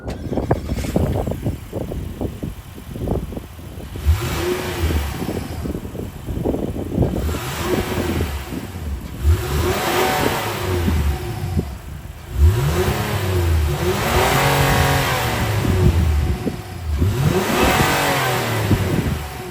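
A 2024 Honda Ridgeline's 3.5-liter VTEC V6 engine starts, settles into a steady idle, then is blipped several times, each rev swelling and falling back, heard up close.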